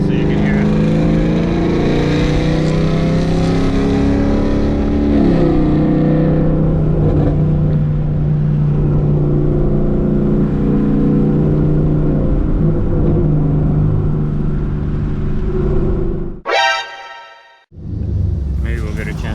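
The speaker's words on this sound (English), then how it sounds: "let you guys listen to the Camaro real quick" Chevrolet Camaro engine revving loudly, a dense continuous roar that shifts in pitch, then cuts out abruptly near the end before rumbling again, close to the listener.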